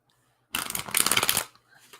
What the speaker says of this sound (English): And as I'm shuffling the cards,